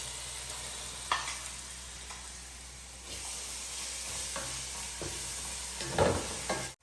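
Ginger garlic paste sizzles and fries with browned onions in a pan, a steady soft hiss with a few stirring scrapes, close and fairly quiet.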